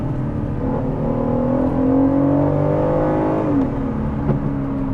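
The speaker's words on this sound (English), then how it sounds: "It's what I imagine a V8 Aston should sound like" An Aston Martin DB11 V8 pulls through the gears, its exhaust note rising steadily in a continuous loud drone before dropping off near the end, heard from close range.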